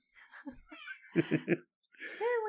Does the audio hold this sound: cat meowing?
yes